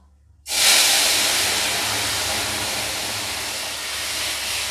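Liquid poured into a hot mustard tempering for a raw mango and shrimp sour dish bursts into a loud, sudden sizzling hiss that holds steady and eases only slightly.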